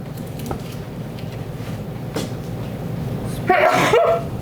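A single sharp sneeze bursts out near the end, following a few seconds of quiet room noise and faint soft knocks.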